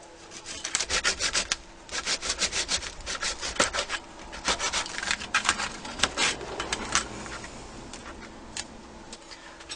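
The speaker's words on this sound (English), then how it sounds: "you take your saw and you cut these little tabs off, and it's really not that hard" A hand saw cuts small tabs off plastic cassette tapes in quick, rhythmic bursts of rasping strokes, close and fairly loud, with short pauses between runs.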